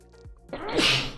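A single person's sneeze bursts out sharply near the end after a brief inhale, close and fairly loud, with no talk during it.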